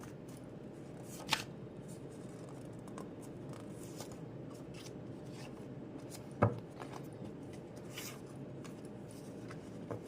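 Tarot cards rustle and slide softly against each other as they are shuffled and drawn, with faint scattered brushing and a couple of sharp little taps, quiet and close in an otherwise still room.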